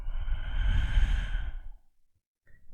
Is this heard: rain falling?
no